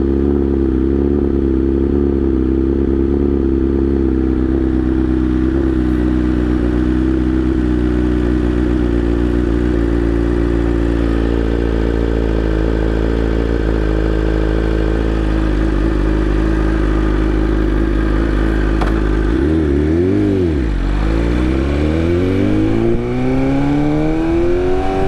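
A BMW S1000R sport motorcycle fitted with an M1000RR full carbon body kit revs loudly and steadily nearby, holding a high rasping drone before the pitch swoops down and climbs again toward the end.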